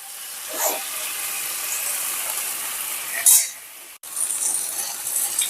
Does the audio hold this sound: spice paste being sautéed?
yes